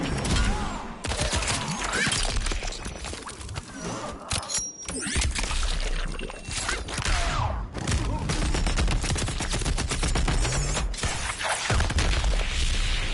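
Dense, loud gunfire from RoboCop's super move in the Mortal Kombat 11 fighting game, with continuous rapid shots and booming impacts layered under game music for the whole stretch.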